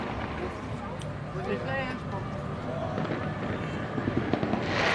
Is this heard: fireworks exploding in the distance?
yes